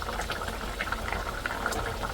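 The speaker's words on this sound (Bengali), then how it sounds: "দেখেন পালের দেশি মুরগি একদম ভালো করে মা এটারে কষাইতেছে আমার হাজবেন্ডের জন্য" Free-range desi chicken curry cooks down in a pot, bubbling and simmering steadily at close range with soft liquid pops and no voices.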